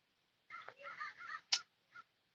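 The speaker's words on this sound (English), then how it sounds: "You hear these crows out here?" Crows calling from a tree outdoors, a few short harsh caws with gaps between them, fairly faint and distant over a quiet background.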